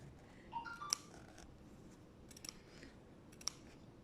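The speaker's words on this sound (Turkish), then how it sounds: "şuradan makasımı yavaşça başlıyorum kesmeye" Scissors slowly snip fabric to open a zipper pocket in a sewing project, a few quiet, sparse cutting clicks against a faint background hiss.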